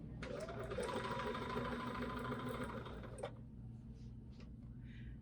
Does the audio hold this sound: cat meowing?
no